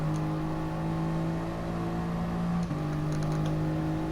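A race car engine hums at steady high revs accelerating out of the Parabolica corner at Monza in a racing video game, with a brief dip and gear shift partway through.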